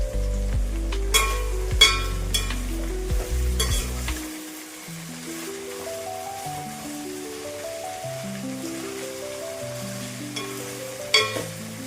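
Sliced okra fries in a pan with a steady, close sizzle and is stirred now and then with audible scrapes and knocks, while soft background music runs underneath.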